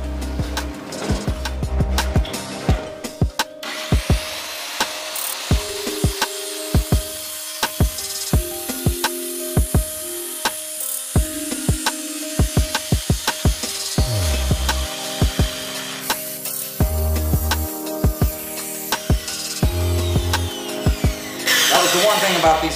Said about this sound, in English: I'm gonna cut these down as far as it'll go, and then I'll finish it off with the Sawzall.